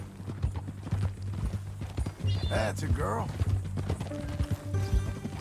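Steady clip-clop of horse hooves in Red Dead Redemption 2, in a regular rhythm, with a voice speaking over them and a brief whinny partway through.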